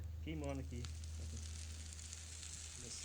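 A hot horseshoe burns against a horse's hoof while a stone is treated, producing a steady, loud sizzle and hiss throughout, with a brief voice near the start.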